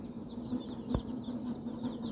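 Young desi chicks, two to four days old, give faint high chirps against a low background hum, with a single soft thump partway through.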